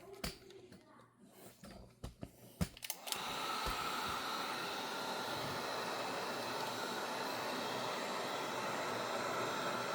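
Heater blowing onto an epoxy resin base layer of an ocean-pour charcuterie board, switching on after a few seconds of quiet handling clicks and then holding a steady, hissing airflow roar to the end.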